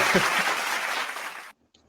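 A short burst of applause from a small group, brief speech at the start, a steady clapping wash that cuts off abruptly after about one and a half seconds into near silence.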